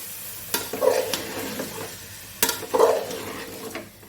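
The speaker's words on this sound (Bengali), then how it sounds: "চাল আর ডাল একসঙ্গে ধুয়ে রেখেছি, দিয়ে দিলাম। ভালো করে নেড়ে চেড়ে জল দিয়ে দেবো।" Washed rice and lentils for a winter khichuri being stirred in a pot, with two distinct scraping strokes and a light sizzle between them, close and fairly quiet.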